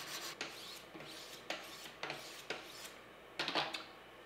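A knife blade is worked against the grit stones of a Wicked Edge guided sharpener, giving about eight faint, evenly spaced raspy strokes, with a quick double stroke near the end.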